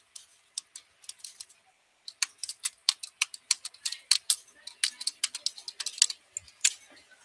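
Keys on a computer keyboard click close up in quick, uneven runs, first a few scattered taps and then a denser burst of steady typing.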